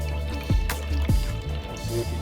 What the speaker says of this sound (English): I'm gonna use my spoon to squeeze it all out